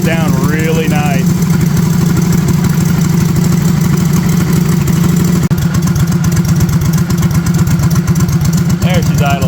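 An old engine idles after a cold start in a steady, low, loud rumble that runs for the whole stretch, with brief voices at the start and end.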